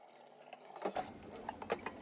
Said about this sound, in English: When washing the cabbage, gently swish it around in the water.